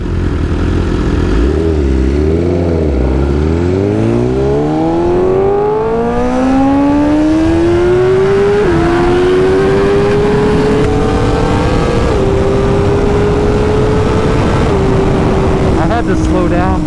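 BMW S1000RR sport bike launching hard, its engine rising through rapid gear changes with brief dips at each shift, loud and close with wind rush, ending in a high-revving scream.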